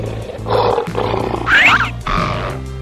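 A cartoon lion roars in several loud, close bursts of roaring and growling with brief breaks, set in a children's animal cartoon with a steady low musical bed beneath.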